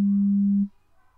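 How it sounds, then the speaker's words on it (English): A single steady low sine test tone from an online tone-deafness hearing test plays clearly on its own for about half a second, then cuts off into near silence. "You hear 3 tones."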